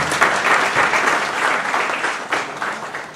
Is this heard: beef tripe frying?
no